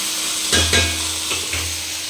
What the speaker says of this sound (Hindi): अब इसमें हम डालेंगे सारे मसालों को